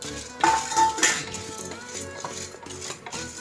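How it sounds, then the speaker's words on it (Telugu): Coconut and roasted gram being dry-roasted in a pan, with a spoon scraping and clinking against the metal in uneven bursts, close up with no talking. "ఇప్పుడు పుట్నాలు వేసి వేయించుకుందాం"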